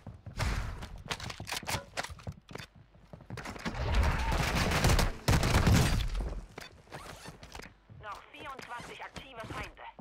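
Video game gunfire coming from all sides, dense bursts of rapid shots and heavy thuds that swell to a loud continuous barrage midway, with a voice talking near the end.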